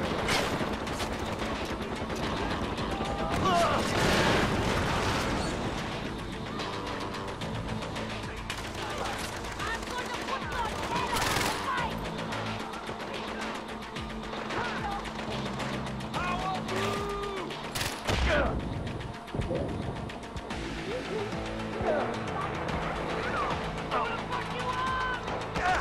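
Sustained bursts of gunfire from the video game Far Cry 4, with rapid shots and mechanical clatter running through a busy mix of game sounds, and voices talking now and then.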